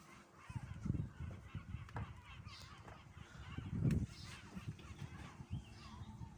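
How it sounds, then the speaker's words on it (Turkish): Gulls screaming outdoors, a run of harsh honking calls through most of the stretch, loudest near the middle, with a voice briefly audible. "martılara bakar mısın? Bağırıyorlar."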